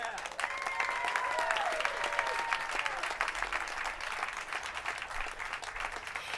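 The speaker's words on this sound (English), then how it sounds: "Let's give her a round of applause." An audience at a Hollywood Walk of Fame ceremony gives a sustained round of applause, steady and somewhat distant, while a voice speaks over it.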